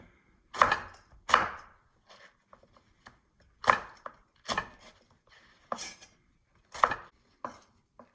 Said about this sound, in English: Next, I'm slicing the jalapeno.